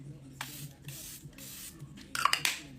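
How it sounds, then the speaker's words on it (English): Charlotte Tilbury setting spray misted onto a face: several soft hissing pumps, then a cluster of quicker, brighter sprays near the end, close and quiet over a low room hum. "I'm gonna set my face and I'm gonna use the Charlotte Tilbury setting spray."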